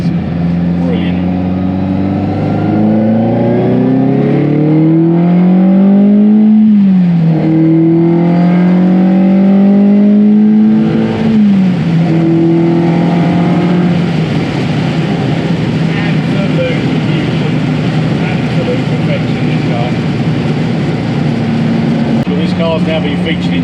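A restored Ferrari 308 is driven hard, its engine revving up through the gears with rising and falling pitch sweeps, loud and close throughout, with a voice talking over the engine.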